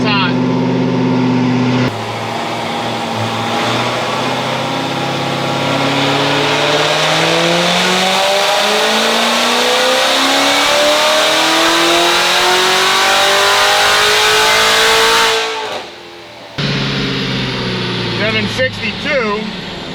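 An RPM Stage 4 engine running on E85 ethanol blend revs hard on a dyno, a loud rising roar sweeping up in pitch for many seconds before cutting off abruptly, then brief sputtering pops and idle.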